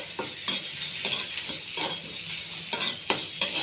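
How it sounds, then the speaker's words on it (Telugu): Onion and mustard seeds sizzle steadily in a hot pan for semiya upma, with a spoon stirring and scraping through the fry at intervals, close and loud, with no talking. "ఉల్లిపాయ, కొన్ని ఆవాలు బాగా కలపాలండి. వేగించాలి బాగా."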